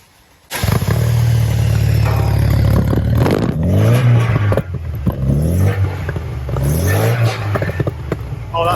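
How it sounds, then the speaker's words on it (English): A VW Golf GTI G60 MK2 with a MOMO Corsa back box exhaust cranks and fires up, then settles into a close, loud idle broken by repeated sharp revs that rise and fall. "So we're just about to fire it up and see what this sounds like."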